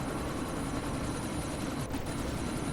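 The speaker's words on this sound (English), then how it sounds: "you need to disable that chopper" Steady low rotor drone of a helicopter in a video game, continuous and fairly close, with no talk over it.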